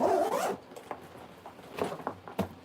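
The front zipper on a travel bag is worked in several short, scratchy zips, one longer pull followed by quick separate tugs, close to the mic, with a dog faintly heard in the background.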